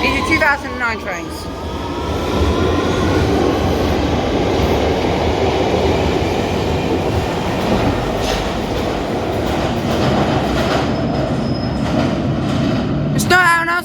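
London Underground Victoria line 2009 train at Victoria station, a loud steady rumble of the carriages running through with wheel and track noise throughout, no talk.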